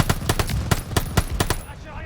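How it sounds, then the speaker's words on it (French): Machine gun fire from the video game Call of Duty Vanguard rattles in a rapid burst of about eight loud, close shots that stops abruptly, with faint voices behind it. "Faut neutraliser cette mitrailleuse!"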